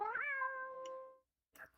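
A cat yowl sound effect: one drawn-out, wavering meow-like cry rising then sustained for over a second, followed after a brief pause by a short faint chirp, fairly close and alone.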